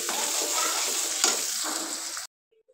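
Chicken frying with onions in a pan gives a steady, close, loud sizzle and crackle for about two seconds, with faint stirring scrapes, then cuts to near silence.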